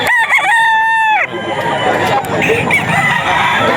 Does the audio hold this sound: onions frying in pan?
no